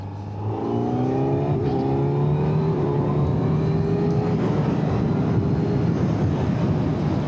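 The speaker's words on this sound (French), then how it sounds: "si je te fais une petite accélération en 3" A 2025 Kawasaki Z900 motorcycle engine revs up in third gear, close and loud, its pitch climbing steadily as it accelerates, then holding a sustained roar.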